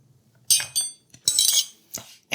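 A spoon clinks against a dish in a few short, bright metallic taps spaced across a quiet moment, close and crisp.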